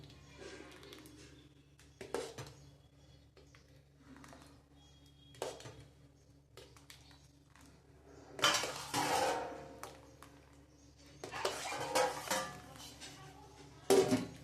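Quiet scraping and clinks of a spoon against a metal vessel as soft papad dough is scooped, with short louder bursts of clatter.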